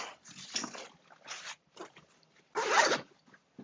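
A backpack zipper is pulled in several short bursts with pauses between them, ending in a longer, louder rasping pull near the end; close and dry, with no voices.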